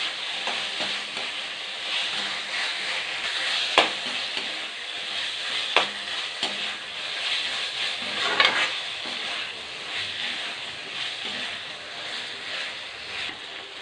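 Potatoes sautéing in a pan for a pachai karamani kara kuzhambu, with a steady close sizzle and a few sharp clicks of a spoon against the pan as they are stirred, no voices.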